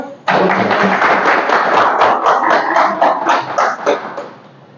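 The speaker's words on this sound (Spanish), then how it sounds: "Un aplauso, por favor." Audience applause at an evening talk event on critical thinking in sport, a dense burst of clapping that starts abruptly, holds steady and loud for about four seconds, then fades out.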